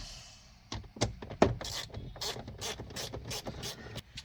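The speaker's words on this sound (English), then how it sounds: "you got a screw right here, and one identical on the other side of the steering wheel." A ratchet backs screws out of a Jeep JK Wrangler dash beside the steering wheel, giving quick close clicking pawl bursts with some mechanical rattling and handling noise.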